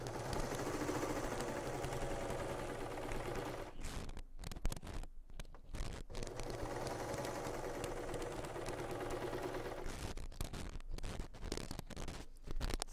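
A sewing machine stitches a faux fur blouse in close, quiet bursts of rapid whirring, with short pauses between runs.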